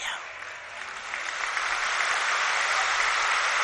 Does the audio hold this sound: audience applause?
yes